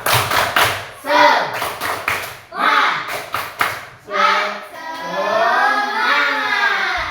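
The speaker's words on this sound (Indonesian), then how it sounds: "Kalau sudah siap, kita tepuk semangat lagi ya." A classroom of children performs a rhythmic spirit clap, bursts of sharp claps in patterned groups alternating with lively children's voices and chanting.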